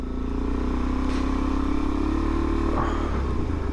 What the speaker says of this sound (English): that exhaust, it sounds great